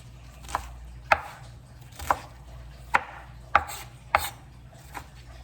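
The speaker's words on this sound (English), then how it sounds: "it's gonna take a moment for me to chop my spinach." Chopping spinach with a knife on a board, heard as about seven sharp, close knocks at an uneven, unhurried pace, with a steady low hum underneath.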